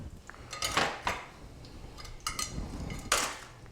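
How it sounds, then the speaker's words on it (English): Roasted chicken bones clatter into a stock pot in several bursts of knocking and scraping, a few separated clunks against the metal with quiet pauses between. "What we're gonna do is add them right into the stock pot here."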